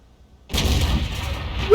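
A tank cannon fires in an armored-combat video game with modern tanks, a sudden heavy boom after half a second of quiet, followed by a sustained rumbling roar and a faint high tone near the end.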